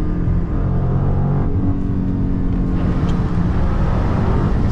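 A Dodge 392 Hemi car engine drones steadily while driving through a freeway tunnel, a loud, continuous low rumble with roar reverberating off the tunnel walls.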